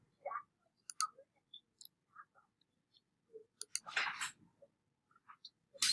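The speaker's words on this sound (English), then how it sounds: "we're gonna roll 3 dice." Three dice rolled for a card-break giveaway, giving a scatter of sharp clicks and clattering taps over several seconds, with a denser rattling burst near the end and faint speech in the background.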